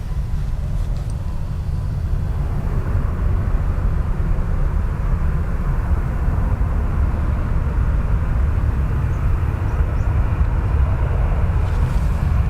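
KLM flight KL935 from Amsterdam arrives at Dublin Airport with a steady, loud, low jet engine roar that holds evenly throughout.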